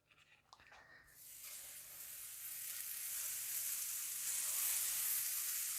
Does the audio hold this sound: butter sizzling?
yes